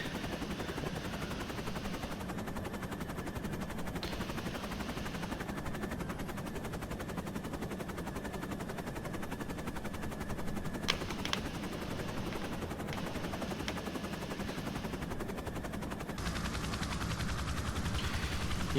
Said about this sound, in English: So the Blackhawk style helicopter also has a Bambi bucket and an onboard water tank with a tube that you can drop.